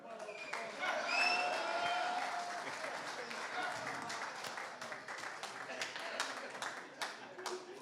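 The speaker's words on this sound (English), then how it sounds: "One more round of applause, please" An audience at a Latin music event claps in a steady, dense round of applause that fills the room, with voices talking and whistling over it and the clapping holding loud throughout.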